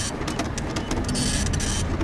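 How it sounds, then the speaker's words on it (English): Steady mechanical whirring and rattling with rapid clicking from a printer running continuously at close range in the video game Freddy Fazbear's Pizzeria Simulator, with no voices. "Why do I still hear the printer?"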